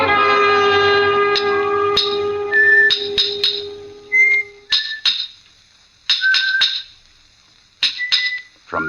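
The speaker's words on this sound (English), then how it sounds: "From the yard itself came a cheery whistle" Short, bright whistled notes ring out in bursts, mixed with sharp metallic clinks and taps of hammer blows, fairly close and lively, in a stonemason's yard.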